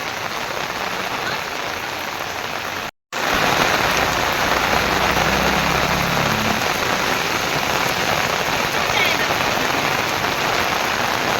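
Steady rain pours down on a village, a dense even hiss of drops on surfaces that continues throughout, broken by a brief silent gap near the start.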